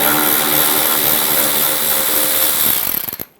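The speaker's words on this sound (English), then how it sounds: "Using a 7mm socket, we're going to remove 3 bolts for our lower bumper fascia" Power tool whirring steadily while a 7mm socket backs out lower bumper fascia bolts behind the pulled-back fender liner of a 2014-2018 Chevrolet Silverado 1500, loud and close, winding down and stopping with a few sputtering pulses at the end.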